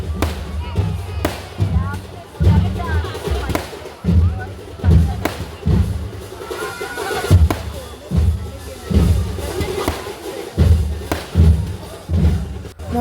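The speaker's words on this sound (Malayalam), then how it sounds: "ഓരോ വരവ് കഴിഞ്ഞിറങ്ങണതിനനുസരിച്ച് ഇതുപോലെ വെടിക്കെട്ട് പൊട്ടിയിരുന്നു കേട്ടോ." Fireworks boom repeatedly at a temple festival procession, heavy thuds in an uneven rapid series with rumbling echoes, loud and close, with crowd noise and voices underneath.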